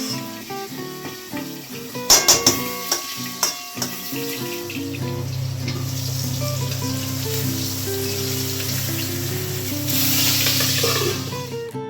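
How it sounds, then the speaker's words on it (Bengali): Fish frying in hot oil in a covered pan, a steady close sizzle and crackle running continuously after a few clatters of utensils, with a brighter spitting burst near the end. "এক এক করে মাছগুলো ভাজা করে নেব, তেলটা গরম হয়ে গেছে।"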